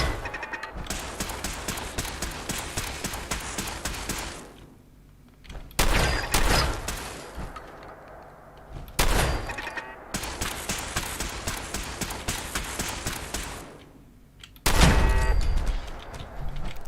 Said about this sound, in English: There's turrets down there, isn't there?